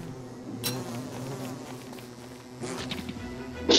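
Bee buzzing in the game Don't Starve, a steady insect drone over light background game sounds, holding close and even for a few seconds before a brief louder burst at the end.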